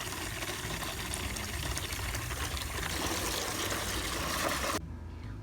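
Water poured into a bucket to soak Vanda orchids, a dense, continuous splashing rush that stays loud and even for several seconds, then cuts off abruptly.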